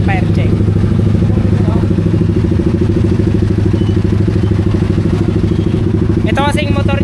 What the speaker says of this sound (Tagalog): Backfire naman daw. Backfire check.